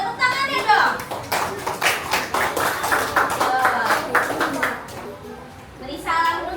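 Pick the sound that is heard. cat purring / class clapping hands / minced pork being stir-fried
class clapping hands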